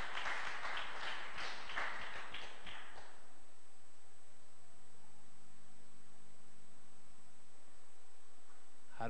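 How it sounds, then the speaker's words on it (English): A short burst of clapping from a small church congregation fades out after a few seconds, leaving faint background hiss. "Let us clap for them."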